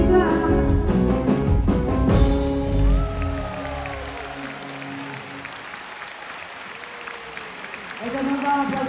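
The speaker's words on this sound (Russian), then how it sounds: "Это мы вам аплодируем, вы здорово пели." A concert audience applauds at a show, dense clapping loud at first, then thinning and fading, with voices and a brief shout rising near the end.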